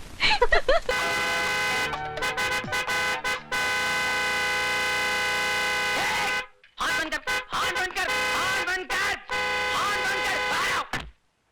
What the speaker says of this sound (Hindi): क्या हॉर्न पे हाथ चिपक गया?